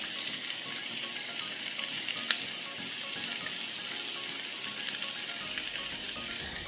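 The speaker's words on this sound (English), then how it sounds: "I'm gonna add the veggies over here. Hear that sizzle?" Steady, bright sizzle of vegetables sautéing in butter in a pan, continuous and close, with a single sharp clink partway through.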